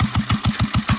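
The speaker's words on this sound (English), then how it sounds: "He has built a bloody motorcycle from scratch with a generator as an engine." Homemade scratch-built motorcycle powered by a generator engine, chugging at a steady idle with a regular thumping pulse about six beats per second, close and loud.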